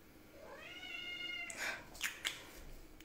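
A cat gives a drawn-out, rising meow close by, followed by a few short sharper cries, fairly quiet in a still room.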